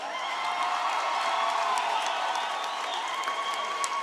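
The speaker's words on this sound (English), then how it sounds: "Let's give the team a large round of applause." A crowd applauds the team at a university graduation ceremony with steady, continuous clapping and a few scattered cheers and whoops throughout.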